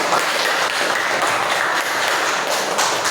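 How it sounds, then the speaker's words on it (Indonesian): Applause from a class of participants after a group presents its discussion, a continuous dense wash of clapping, close and steady throughout. "Ya, tepuk tangan."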